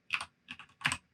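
Three quick, crisp keystrokes on a computer keyboard while a command is typed in a Linux terminal, close and clear in a quiet room.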